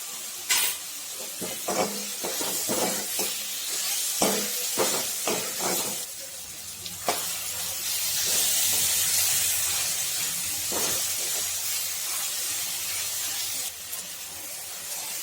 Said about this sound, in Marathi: छान अशी फोडणी झालेली आहे